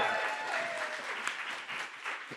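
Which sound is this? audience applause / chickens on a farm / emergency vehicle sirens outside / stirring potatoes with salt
audience applause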